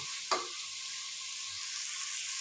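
Stuffed pigeons with rice and freekeh sautéing in a pan give off a steady, even sizzle, with one brief louder spatter near the start and no talking.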